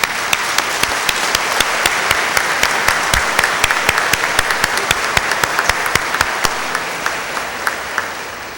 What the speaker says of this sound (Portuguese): vamos ficar de pé e dar uma salva de palmas para eles.